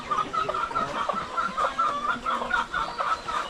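Native chickens cluck steadily and close by in short repeated bursts of a few notes, forming a busy, continuous farmyard chatter with no talk.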